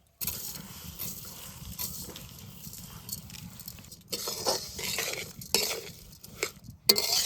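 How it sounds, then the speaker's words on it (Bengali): Soaked Gobindobhog rice being stirred in a wok: soft scraping and rustling strokes against metal, irregular and close, with a faint sizzle underneath. "কড়াইতে চাল দিয়ে এরকম আস্তে আস্তে নাড়বেন।"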